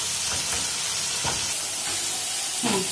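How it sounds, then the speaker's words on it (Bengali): Masala spice paste fries over a raised flame in a pan, a dense continuous sizzle and hiss with faint stirring scrapes, fairly quiet and steady, no voices. "ব্যাস মশলাটাকে কষিয়ে নিলাম আর একটু কষাবো এবার ফ্ল্যামটাকে আমি বাড়িয়ে দিয়েছি"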